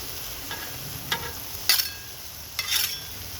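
Tomatoes sizzle softly on an outdoor griddle at night, a steady faint frying hiss broken by a few sharper scrapes and stirs.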